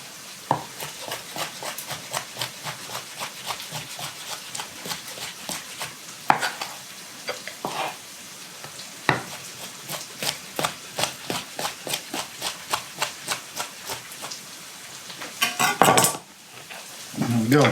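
Onions cooking in a pan for homemade pasta, stirred with a utensil: a steady run of sharp scraping taps against the pan at a regular rhythm, close and fairly loud, with a faint sizzle underneath and a louder clatter near the end.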